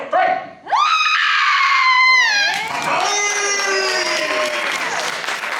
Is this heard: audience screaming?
yes